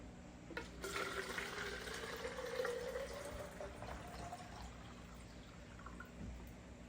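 Hot water pours steadily into a foam cannon bottle at close range, a continuous splashing, filling stream that rises slightly in pitch as the bottle fills, with no talking.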